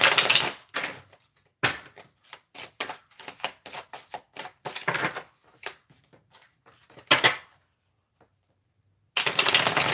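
Quick riffling and slapping bursts of tarot cards being shuffled, irregular rapid clusters with short pauses, close and crisp, no voices.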